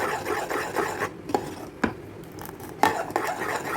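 Spoon scraping and stirring custard in a pot for homemade ice cream, with a few sharper clinks against the metal over a steady rasping texture.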